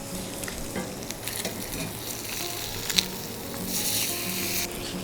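Wagyu steak sizzles steadily over medium heat in a pan, a continuous close frying hiss with small pops and crackles throughout and no talking.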